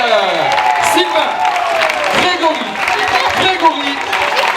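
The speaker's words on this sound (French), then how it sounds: "Un max d'applaudissements pour eux, s'il vous plaît." An audience applauds and cheers steadily at a closing stage show, a dense wash of clapping that runs the whole time while a host talks over it.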